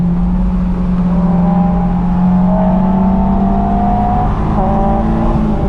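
A Honda S2000 engine pulls hard on a backroad, loud and close, its pitch climbing steadily over several seconds with a brief shift near the end before rising again.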